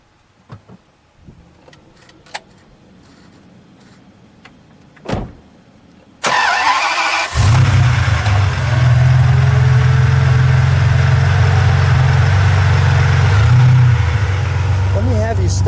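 A red 1999 Ferrari 550 Maranello V12 catches after a short crank and settles into a loud, steady, deep idle that runs unbroken to the end, following a few quiet clicks and knocks.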